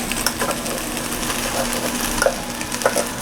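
Cooked rice goes into scrambling egg in a hot pan, with a soft continuous sizzle under scattered scraping and tapping of utensils against the pan.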